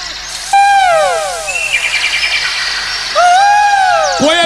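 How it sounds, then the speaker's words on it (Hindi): Koel birds call repeatedly in a rainy rural setting in Marwar, their loud, clear rising whistled notes arriving in separate bursts with a quieter stretch of chirping in between. "कोयल बोलने लगी"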